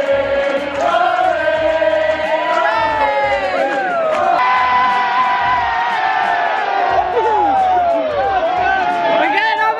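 A loud, close crowd of Australian and Irish football fans erupts in cheers and whoops on a station platform as the train arrives, a sustained roar of voices with rising shouts.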